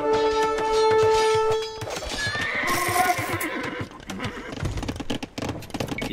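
Horses in a video game neigh and whinny loudly with clip-clopping hooves, a long tonal whinny at the start giving way to a busy clatter of hooves and more neighs.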